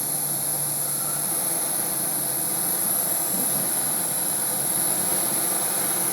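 An MSR PocketRocket Deluxe camping stove burns with a steady, even roaring hiss of flame, constant and close with no talk.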